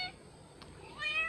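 A domestic cat gives a faint, whiny meow indoors, one drawn-out rising call near the end after a quiet stretch.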